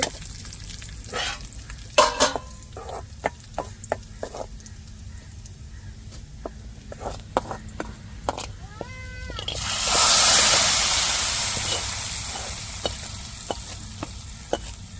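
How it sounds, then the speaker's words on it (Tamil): Curry leaves hitting hot oil in a fish curry pan flare into a sudden loud sizzle and crackle, after scattered clinks and light kitchen knocks, then slowly fade. "இப்போ கருவேப்பிலை சேர்த்தாச்சு"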